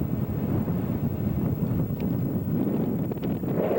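Steady wind blows outdoors beside a lake, a continuous low roar buffeting the microphone throughout with no other clear sounds.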